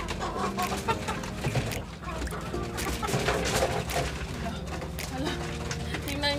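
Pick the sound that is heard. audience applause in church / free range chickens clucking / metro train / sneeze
free range chickens clucking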